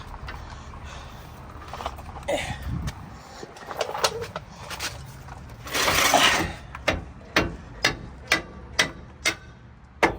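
Ratchet clicking while a bolt is loosened on the rear shock of a 2007 Ford Expedition, a run of sharp evenly spaced clicks growing louder toward the end, with garage noise in the background.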